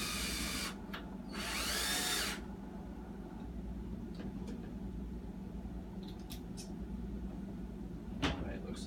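A power drill drives two screws through the side of a wooden floor frame in two brief bursts at the start, followed by quieter handling and a sharp knock near the end, with a steady low background hum.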